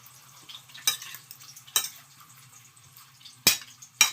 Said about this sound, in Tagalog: We can mix this one.